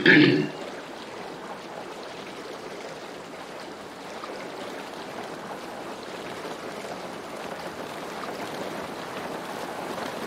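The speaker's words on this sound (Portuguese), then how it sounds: "As ondas." Steady rushing of ocean waves in the video game SCUM rolls on without pause after a short louder burst at the start, a continuous wash of water noise at moderate level.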